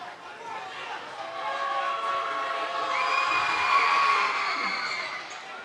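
A high school boys' varsity basketball crowd in the gym during free throws, a loud, sustained roar with piercing whistle-like tones that swells toward the middle and stays steady to the end.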